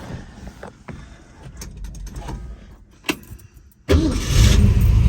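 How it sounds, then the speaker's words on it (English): A 1966 Shelby GT350 stroker V8 with forged pistons and crank cranks with a few clicks and knocks, then fires abruptly into a loud, rumbling idle close by. "Fires right up. I didn't even have to give it gas."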